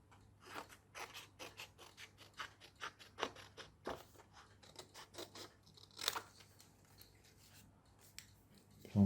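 Close, quiet snipping of scissors cutting out printed paper model parts for a Hawker Siddeley Harrier glider, a steady irregular series of short crisp cuts with light paper rustling.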